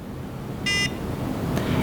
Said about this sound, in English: you'll hear some beeps.